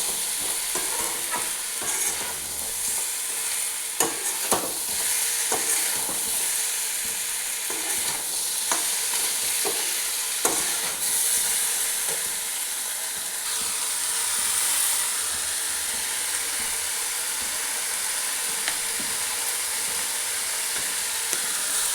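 Meat and spices sauté in mustard oil in a pan, a steady close sizzle and hiss running throughout with frequent scraping stirs and clinks, no voices.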